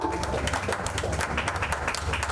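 Audience applause for a female performer at a live song launch event, a steady loud wash of many hands clapping throughout, with a low music bed underneath.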